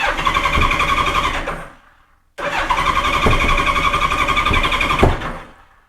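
A 1986 Honda Goldwing GL1200 engine cranks without catching, two long whirring starter bursts of about two seconds each separated by a brief pause, close and loud.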